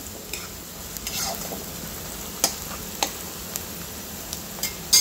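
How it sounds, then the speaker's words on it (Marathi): Onions sautéing in a pan for jowar ukadpendi: a steady low sizzle with a few sharp scraping clicks from stirring, moderately close and without talk. "आता मी याला छान सोनेरी रंगावर परतून घेते, छान शिजू देते."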